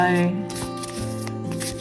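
An oracle card deck being overhand-shuffled by hand, with soft papery card slides and flutters repeating steadily close up under background music.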